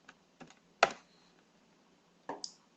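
Keystrokes on a computer keyboard entering a search query, a few sparse, quiet clicks with a short cluster near the start and a couple more toward the end, no talking.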